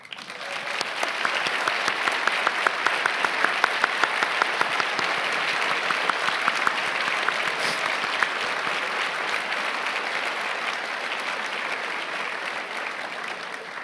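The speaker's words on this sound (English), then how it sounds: "everyone, please join me in a round of applause" A large conference audience applauds steadily for over ten seconds, a dense, even wash of clapping that holds at a constant level.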